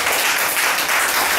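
A church congregation applauds steadily and fairly loudly for about a second and a half, a dense, even wash of clapping with no pauses and no voices standing out.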